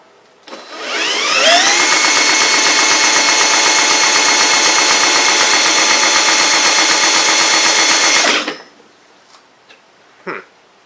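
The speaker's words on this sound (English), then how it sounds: "I'm going to have a drill. This should pull it over." A loud, steady mechanical whir runs for several seconds as a drill cranks over the small Honda engine of a Troy-Bilt machine, then cuts off, followed by a few faint clanks.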